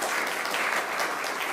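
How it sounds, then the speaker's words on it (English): An audience claps for a woman at a Kenyan technology event, a dense, even burst of many hands filling the room at steady loudness for the whole short stretch. "let's clap for this lady."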